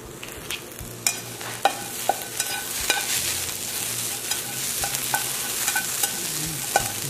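Onions sautéing in a pan while baked pineapple squash is prepared, a steady sizzle with repeated scraping stir strokes and utensil taps, close and fairly loud, with no talking.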